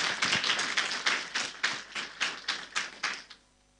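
A church congregation applauding the choir during a Sunday service. Steady, moderately loud clapping settles into a slow, evenly spaced rhythm of single claps before stopping abruptly.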